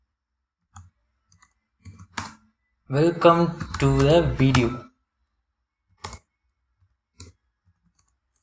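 Scattered keyboard clicks from typing HTML code into a paragraph tag, a few soft taps before and after a short burst of speech in the middle.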